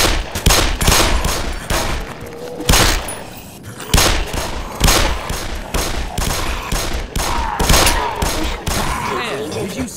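Gunfire in the video game Black Mesa, loud repeated shots in irregular bursts with echoing thuds, mixed with game sounds across the stretch.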